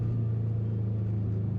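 A car pulling out onto the road ahead heard from inside a Subaru WRX, a steady low engine drone and road rumble, close and continuous, with no talking.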